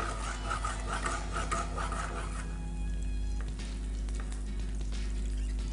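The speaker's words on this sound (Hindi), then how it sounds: "लहसुन को फ्राई करेंगे" Garlic fries in oil for chili oil, giving a steady crackling sizzle with scraping, rubbing stir strokes over a low electrical hum, fairly quiet and without speech.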